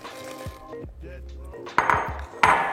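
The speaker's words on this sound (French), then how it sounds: "on met nos noix et avec une spatule, on va mélanger délicatement" Walnuts go into chocolate brownie batter in a mixing bowl: a few dull knocks and soft thuds, then two bright clinks against the bowl, heard up close.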